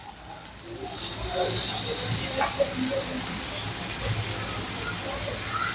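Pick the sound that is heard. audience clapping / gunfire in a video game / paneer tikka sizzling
paneer tikka sizzling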